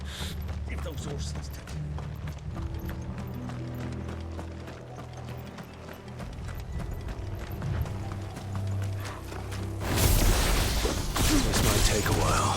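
Horse hooves clip-clop in the video game Final Fantasy 16, a steady rhythmic clatter under game music and mechanical noises, with a louder burst of activity toward the end.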